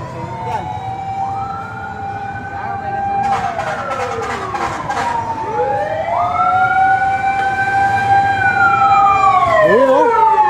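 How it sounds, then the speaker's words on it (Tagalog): A fire truck siren wails loudly past on the street, its rising and falling tones sweeping and overlapping as it moves by over a steady traffic rumble, with a short burst of higher blasts midway. "May dumaan na bumbero."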